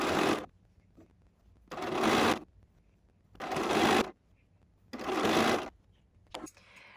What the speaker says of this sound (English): I'm going to sew just inside of my drawn line.